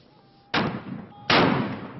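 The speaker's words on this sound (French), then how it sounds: "Des coups de canon tirés dans un grand parc londonien par des soldats en uniforme de tradition" Two loud ceremonial cannon shots, fired by uniformed soldiers in a large London park, boom out less than a second apart, each a sharp blast with a short decaying tail.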